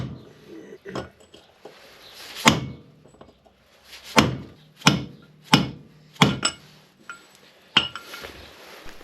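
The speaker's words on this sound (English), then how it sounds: "I'm going to hammer the bearings out." Hammer blows drive the bearings out of a Triumph Daytona 955i swing arm hub, about eight sharp metallic strikes landing in an irregular rhythm, close and loud, with faint clinks between them.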